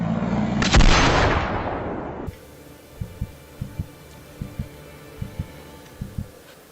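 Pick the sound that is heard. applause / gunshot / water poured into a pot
gunshot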